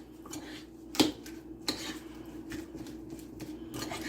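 A grinder salad with lettuce is stirred in a small bowl, giving soft scraping with a few sharp utensil clinks against the bowl, close and quiet.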